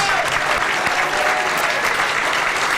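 Loud, sustained applause fills a Touchdown Club football banquet as the first team offense is introduced, a dense, even wash of clapping from a crowd with no voices on top.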